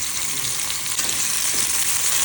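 Tomato, curry leaves and green chillies with salt sauté in hot oil for a Madurai-style fish curry, giving a steady, loud, close-up hiss and sizzle with no voices.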